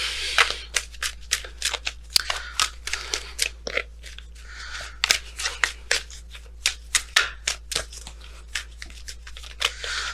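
Messenger Oracle tarot cards are shuffled by hand in quick riffling bursts, the crisp flicks and slaps close and fairly loud, repeating steadily for several seconds without speech.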